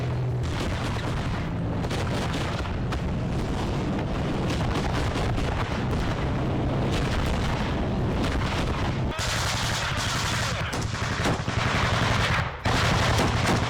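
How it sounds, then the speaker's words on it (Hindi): Dense, continuous bursts of gunfire from an armored vehicle crackle and boom, loud and sustained, with rapid repeated shots blending into a heavy roar. "ये एक बख्तरबंद गाड़ी है जिससे गोलियां चलाई जा रही हैं।"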